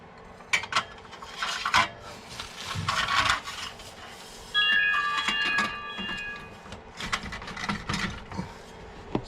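Borla ATAK exhaust mid pipe for a Ford Mustang being slid into place, with clanking metal, ratcheting and scraping parts in irregular bursts, and a bright metallic ring partway through.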